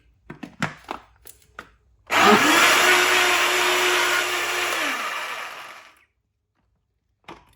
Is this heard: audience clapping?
no